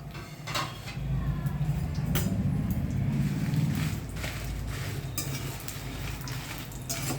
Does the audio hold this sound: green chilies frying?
yes